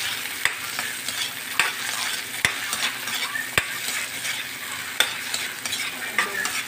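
Garlic, onion and tomato sautéing for a vegetable adobo, a dense close sizzle with regular sharp spatula knocks and scrapes against the pan, no talk.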